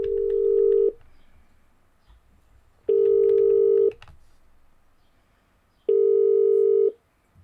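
Three long single-pitch ringback tones from a Mitel phone system calling extension 6001, each lasting about a second with quiet gaps of about two seconds between them.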